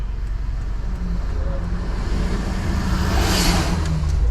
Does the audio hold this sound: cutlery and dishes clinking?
no